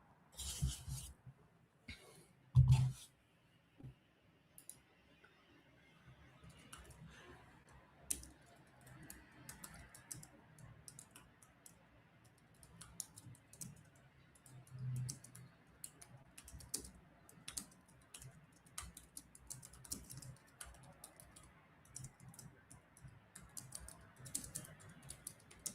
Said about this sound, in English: You'll hear me typing and swearing